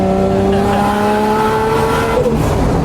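A 1989 Nissan Silvia S13 drift car accelerates hard and close, its engine note climbing steadily in pitch before dropping sharply near the end, loud and continuous with no voices.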